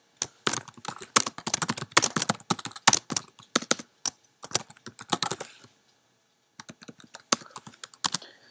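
A press release title being typed on a computer keyboard: steady, rapid runs of close key clicks that stop briefly, then a few more keystrokes follow.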